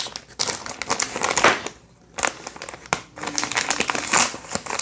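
Beyblade X packaging being ripped open up close, with loud crinkling and tearing plastic in several bursts and a brief pause midway.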